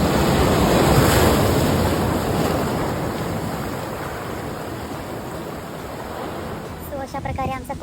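Ocean surf rolls in steadily at Kondura beach on the Konkan coast, a broad continuous wash with wind buffeting the microphone throughout.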